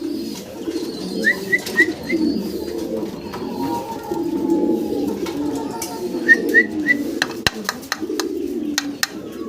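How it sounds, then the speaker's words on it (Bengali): Caged pigeons at a farm coo in low, repeated throaty murmurs, with a few higher chirps and whistles and some background voices mixed in. "বিশাল সাইজের কবুতর দেখতে পারতেছেন"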